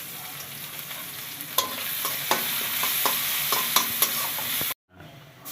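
Garlic frying in a pan for rohu fish curry, a steady close sizzle with regular scraping knocks of a spoon stirring, cutting off abruptly near the end.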